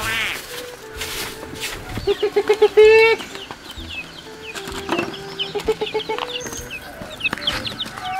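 A chicken clucks in quick, repeated bursts close by, with a few louder squawks and faint background noise.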